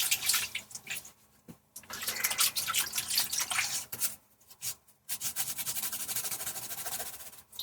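Paint brush rinsed in water after oil painting, with bursts of splashing and swishing in a container separated by brief pauses, close and quiet, no voices.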